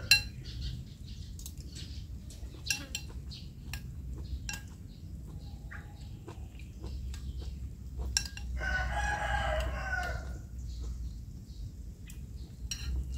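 A rooster crows a few times outdoors in a quiet garden setting, moderately distant, with scattered clucks and light clinks of dishes and cutlery over a low background hum.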